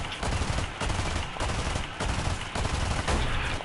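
Naval guns firing in War Thunder, heavy shots going off in a steady rhythm roughly every half second, each a broad booming burst over constant battle noise.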